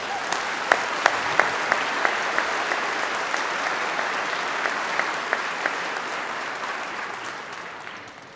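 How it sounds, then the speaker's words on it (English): Audience at a university convocation ceremony claps steadily and fairly loudly for the big band, a dense sustained applause with a few sharper individual claps standing out early on, gradually thinning toward the end. "Let's give a big round of applause."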